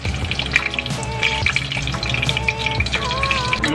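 Tempura batter with onion and lotus bubbles and crackles in hot oil, a steady close sizzle with occasional clinks of utensils throughout.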